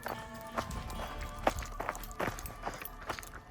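Horse hooves walking down a groomed outdoor trail, a steady irregular clip-clop of footfalls close by over a noisy, rustling background.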